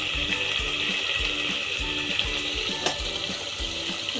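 Onion, tomato and spice masala sautéing in oil for a tamarind bitter gourd dish, a steady close sizzle with rhythmic low stirring thumps from a spoon against the pan.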